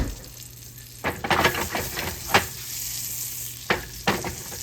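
Amish butter melts and sizzles in a hot pan with a steady crackle close by, broken by a few louder scraping stirs, and no one talks.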